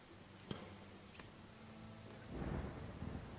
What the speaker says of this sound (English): Do you hear the thunder? Very stormy.